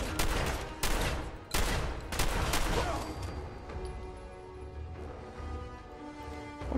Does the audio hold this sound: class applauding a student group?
no